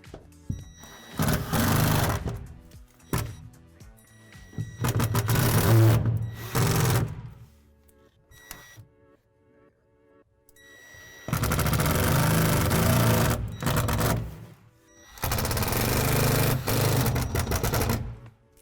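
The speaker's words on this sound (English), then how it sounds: "When inserting your screws, start it at a 90-degree angle. Then, once it's started, go down to about a 45-degree angle and finish screwing that in." A power driver sinks screws into a Lifetime utility shed roof panel in several loud, buzzing bursts of one to three seconds each, separated by quieter pauses, close by.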